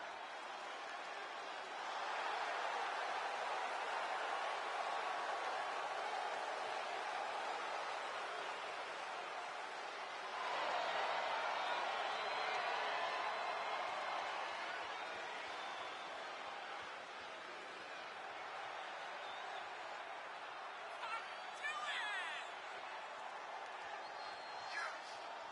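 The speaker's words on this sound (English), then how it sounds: "And just listen to that crowd." A virtual arena crowd in the WWE 2K24 wrestling game roars as a steady, fairly faint wash of noise, swelling briefly partway through, with commentary voices likely underneath.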